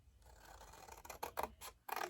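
Scissors trimming paper pieces for a gift box, a few quiet snips that become louder and crisper toward the end, close up with no talk.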